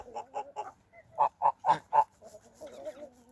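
Domestic geese honking on a farm, including a gander and a laying goose, in a sequence of about seven loud, evenly spaced nasal calls, the last four strongest, followed by quieter grumbling.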